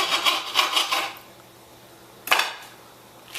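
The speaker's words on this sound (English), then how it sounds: "I'm going to slice it up." A knife cuts through a Jersey beefsteak tomato on a board with quick scraping strokes, a rapid cluster at first and then one more firm cut after a pause.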